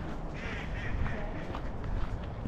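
Ducks quacking during a winter walk in Calgary, several short nasal calls at moderate distance over a rumbling outdoor background.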